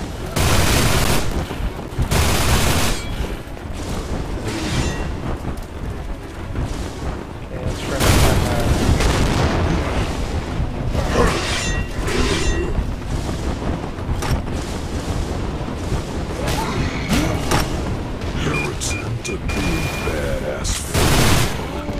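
Rapid, sustained Gatling gun fire in the survival video game Hell's Reach, loud bursts of continuous shots mixed with heavy booms and explosions, pausing briefly between volleys.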